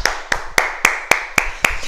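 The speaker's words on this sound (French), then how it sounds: "On s'applaudit, c'est un bel éducatif" An adult fitness class claps together in a steady rhythm, seven sharp, evenly spaced claps at close range about a quarter second apart, with no voices over them.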